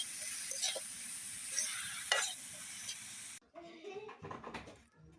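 Cabbage filling for puli pitha sautéing in a pan: steady sizzle with scraping stirs and a couple of sharper utensil knocks, then the texture changes to quieter, separate stirring scrapes near the end.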